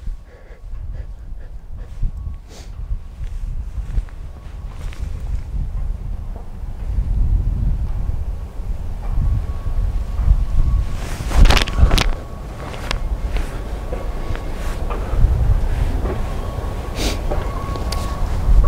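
Wind blows outdoors at a disc golf course in Tartu's Roosi park, a steady low buffeting roar against the microphone with gusts swelling and easing across the stretch.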